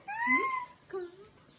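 A young voice imitates a cat, giving a long meow followed by a shorter one, soft and close.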